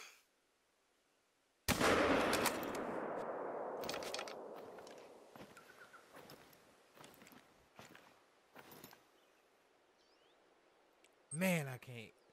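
A sharp, loud rifle shot from theHunter: Call of the Wild cracks out and echoes through the open hunting ground, followed by footstep-like thumps and someone talking afterwards.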